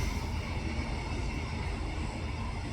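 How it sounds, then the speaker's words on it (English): A passing train gives a steady, loud, broad rumble and roar that fills the whole stretch without a break, nearby and with no voices over it. "Thank you, train."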